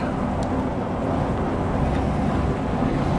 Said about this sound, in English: I'll show you what happens when I use the engine brake.